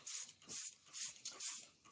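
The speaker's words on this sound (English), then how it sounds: "So I'm going to spray" Several short hissing sprays onto melt-and-pour soap bars in a quick, even rhythm, each a brief burst of airy spritz close by, with quiet gaps between.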